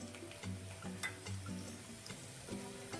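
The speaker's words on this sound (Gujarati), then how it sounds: "લસણને થોડું એવું પકાવવા દઈશું" Garlic cloves fry in hot oil with cumin and asafoetida in a Gujarati kitchen, giving a soft, continuous sizzle broken by occasional light spoon taps against the pan, close but quiet.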